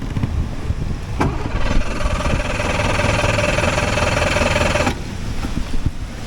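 Boat outboard engine running after being choked, a loud, steady mid-pitched drone that holds for several seconds and then drops back to a quieter rumble, with no talk.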